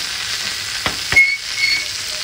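Fish wrapped in Malabar spinach leaves fries in hot oil in a pan, giving a continuous soft sizzle with a couple of brief scraping stir sounds.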